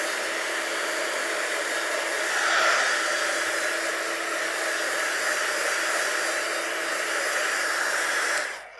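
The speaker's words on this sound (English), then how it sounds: "what you can do now is take a heat gun just over the surface" A heat gun blows hot air over the surface of paper printed with inkjet ink, a steady loud airy whoosh with a motor whine that holds evenly, then cuts off at the end.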